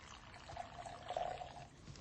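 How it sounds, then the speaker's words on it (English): Two shots of Smirnoff vodka poured into a mixing glass for a Strawberry Mule cocktail, a brief close liquid pour with a steady gurgling trickle. "2 shots of Smirnoff."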